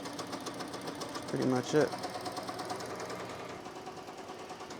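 A sewing machine stitches a patch in a studio, running as a steady mechanical whir under a brief spoken remark.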